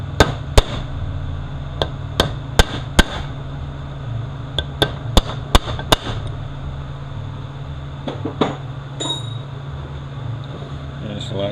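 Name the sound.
chisel hammered to stake part during E4OD transmission rebuild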